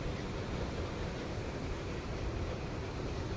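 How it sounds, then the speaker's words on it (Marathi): Sea waves breaking on the beach at Puri, a steady, dense wash of surf that holds at an even level throughout with no voices. "खूप सुंदर असा समुद्र आहे."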